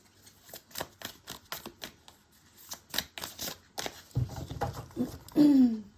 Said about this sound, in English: That one, even though I love that deck, it's very hard to shuffle.